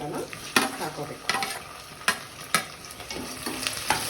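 Onions frying in a pan for chicken biryani, a continuous close sizzle broken by regular scraping stirs every half second or so.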